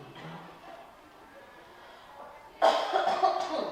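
A quiet, muffled stretch followed by a sudden loud cough burst near the end, close to the listener.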